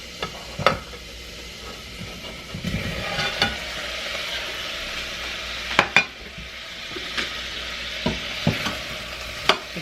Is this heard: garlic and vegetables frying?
yes